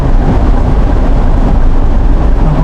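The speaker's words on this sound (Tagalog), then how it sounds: "lakas na ulan, grabe" Heavy rain pours down at a market in Biñan, a loud, dense and unbroken roar with a deep rumbling low end, close by and with no voices.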